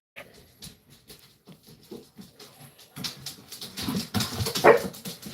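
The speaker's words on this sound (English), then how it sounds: "the puppy dogs" Small dogs yip and bark in quick, uneven bursts indoors, growing louder and busier toward the end, with soft pattering and whimpering mixed in.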